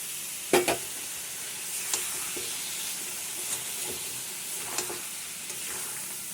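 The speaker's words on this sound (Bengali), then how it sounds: "এই যে জল গরম করে রেখেছি, একটু জল দিয়ে দেবো যাতে মশলাটা লেগে না যায়।" Hot water poured into frying masala for Bengali chicken kasha, sizzling and steaming steadily in the pan, with a few sharp clanks of the spoon as it is stirred.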